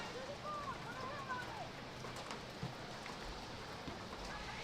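Steady hiss of rain falling during an outdoor high school girls' soccer match, spread evenly throughout, with faint distant whistles and voices mixed in.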